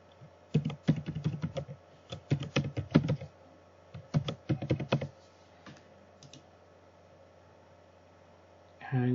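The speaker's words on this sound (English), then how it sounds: "type in whatever your Google account information is" Bursts of keyboard typing as Google account details are entered on a computer, quick clustered key clicks separated by short pauses, fairly close and moderately loud with no talking.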